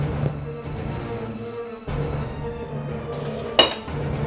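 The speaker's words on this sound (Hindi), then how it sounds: "मैं बर्तन धो देता हूँ" Dishes, pots and utensils clink while being washed by hand in a home kitchen, a steady low hum beneath scattered light clatters and one sharper metallic clink near the end, with no speech.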